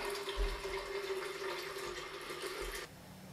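Water pours steadily from a disconnected shower pipe in a plumbing setup, making a continuous rushing hiss that cuts off abruptly near the end.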